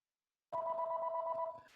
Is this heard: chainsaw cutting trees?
no